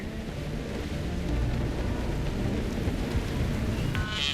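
A thunderstorm in Mass Effect 3: steady heavy rain with low rumbling thunder rolling throughout, loud and close, with no voices.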